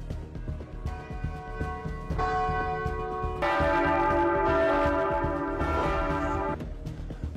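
Church bells ring out in Iceland in a show of support for the people of Gaza, several bells pealing together in sustained overlapping tolls that swell to a loud, full clang before easing off.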